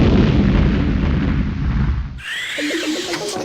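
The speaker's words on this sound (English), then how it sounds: "Huge explosion in the 3rd bakery of Baker Street." A huge explosion sound effect roars as a dense, sustained blast of rumbling noise for about two seconds, then cuts off abruptly into quieter debris and crackling.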